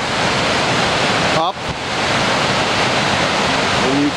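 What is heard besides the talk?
rushing water of the Boulder River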